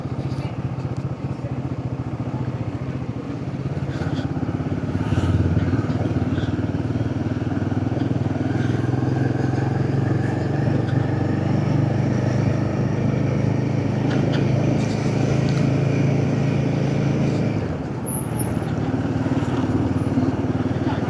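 A Royal Enfield Himalayan 450 motorcycle rides along at night, its engine a steady close drone with wind rush and small shifts in pitch as it holds speed.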